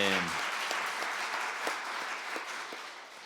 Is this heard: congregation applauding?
yes